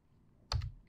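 A computer keyboard being typed on, with a couple of quick, close key clicks after a quiet start, as a terminal command is entered.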